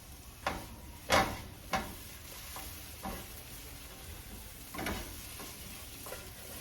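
Diced potatoes fry in a pan with a soft, continuous sizzle, broken by several distinct scraping strokes of a utensil stirring them, strongest early on and then sparser.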